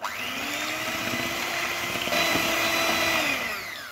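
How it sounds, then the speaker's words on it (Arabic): An electric hand mixer whirs steadily, beating egg into an oil and sugar batter for chocolate chip madeleines, a loud continuous motor drone with a slight pitch shift partway through, close up with no talking. "هنا نزيدو البيضه الاولى ونطربو حتى تخلط مزيان"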